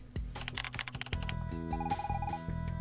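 Rapid keyboard typing in the Evoland 2 video game clatters in a quick run of close, crisp key clicks, then shifts into a beeping electronic tone pattern as the tapping continues.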